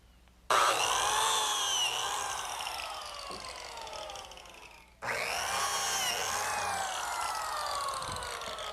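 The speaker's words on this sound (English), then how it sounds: "the first thing I'm going to do is cut the slots in the ends of the runners" A biscuit joiner cuts slots into the ends of wooden runners in a woodshop, two loud whining bursts of several seconds each, with falling pitch under load and a brief break between them.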